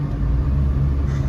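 A 1.8T VW MK1 Rabbit pickup with a Techtonics exhaust cruises along, its engine a steady, subdued low rumble and drone heard from inside the cab, with no voices.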